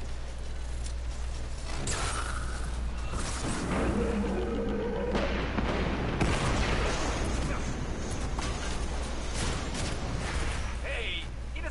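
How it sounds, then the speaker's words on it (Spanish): Explosions and mechanical booms from a Destiny video game, loud and dense with rumbling low end and scattered impacts continuing throughout under game sounds. "¿Quién está haciendo explotar cosas sin mí? Voy a investigar la explosión."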